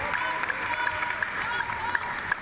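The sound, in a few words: crowd cheering at a para table tennis match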